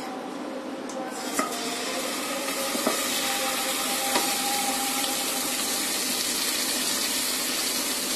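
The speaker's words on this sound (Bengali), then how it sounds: "তেলটা গরম হয়ে গেছে, এখন আমি ড্রামস্টিকগুলি দিয়ে দিচ্ছি।" Chicken drumsticks fry in hot oil with a dense, steady, loud sizzle and hiss, broken by a few faint clinks of a utensil against the pan.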